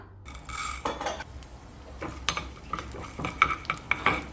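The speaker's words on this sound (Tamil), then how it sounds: "கொஞ்சமாக நெய், இதில் பாசிப்பருப்பை முதல்ல வறுத்து எடுத்துக்கலாம்." Moong dal roasting in a little ghee in a pan, stirred with a metal spoon: close scraping strokes and sharp clinks against the pan over a faint sizzle, with no talk.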